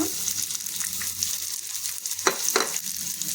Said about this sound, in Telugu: ఈ ఆయిల్లో ఇప్పుడు ఈ ఉసిరి ముక్కలు వేసి వేయించుకోవాలన్నమాట